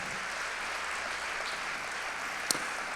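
A church congregation applauds in a continuous, even wash of clapping heard from a distance, with one sharp click near the end.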